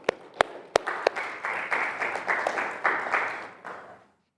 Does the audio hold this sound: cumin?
no